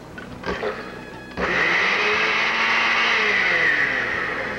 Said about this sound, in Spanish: Licuamos 6 huevos y 3 tazas y media de